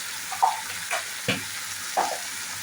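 Chili powder and roasted cumin powder fry in hot oil for a thotakura (amaranth) liver fry, a steady hiss broken by a few sharp scraping stirs of a spoon against the pan.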